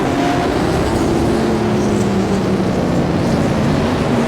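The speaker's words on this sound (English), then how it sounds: "And Bevan Burton, that car looks and sounds great out front" A super sedan race car engine at Charlton Raceway holds a steady, droning roar for the whole stretch, loud and continuous with a low rumble and no voices.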